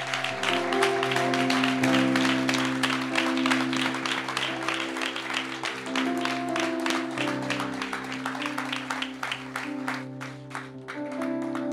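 A church congregation claps during worship, a continuous rhythmic applause layered over sustained organ or keyboard chords and other instruments, loud and full throughout.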